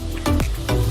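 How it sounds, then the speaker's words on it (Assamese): Fish curry with hot water added, beginning to boil in a pan while cooking restaurant-style: a close, steady bubbling sizzle with a few brief surges over under a second, no talking. "আঞ্জাখন উতলিবলৈ ধৰিছে"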